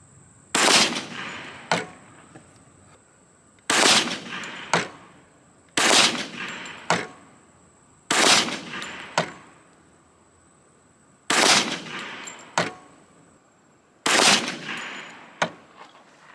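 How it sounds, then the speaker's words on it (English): A Glock 21C pistol firing Mills .45 ACP rounds outdoors, six groups of two or three sharp, loud shots in quick succession, each group separated by a pause of a couple of seconds. "last two groups of the Mills ammunition and the Glock 21C"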